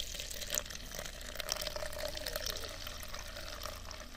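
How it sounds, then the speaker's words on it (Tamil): Steady stream of water poured into soap powder, a continuous trickling pour with faint splashy texture, moderately quiet and close, no talking. "அப்படியே தண்ணி ஊற்ற ஆரம்பிங்க."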